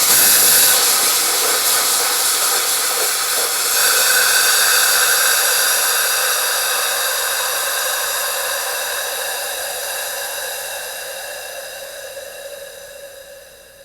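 A Cryonite gun is triggered to purge material from its hose, giving a loud, steady hiss that starts strong and gradually fades as the pressure drops, heard close up with no voices over it.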